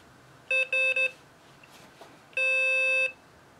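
A Morserino-32 CW decoder sounds Morse code, three short beeps followed by one long tone, clean and close against a quiet background.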